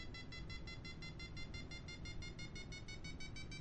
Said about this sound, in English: That beeping you're hearing is the variometer.